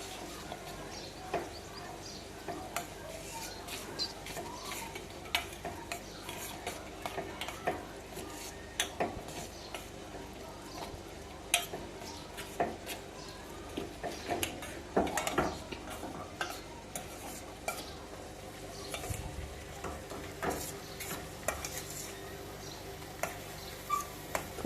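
Stirring chutney in hot oil in a pan, with soft scrapes and clinks of a spoon against the pan over a faint low sizzle, quiet and close, with no talk.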